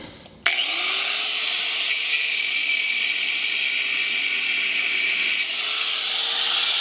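A power tool cutting into the face of a wheel stud nut on an '83 Toyota Cressida, spinning up abruptly into a loud, sustained high whine with a steady grinding edge that carries on unbroken at close range.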